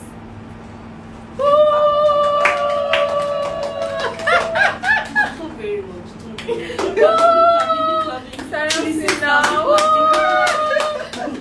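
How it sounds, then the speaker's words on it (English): Scattered claps from a small audience at a live team session ring out amid chuckles and overlapping voices, the clapping fairly close and uneven, with talking and laughter woven through. "Round of applause, ladies and gentlemen."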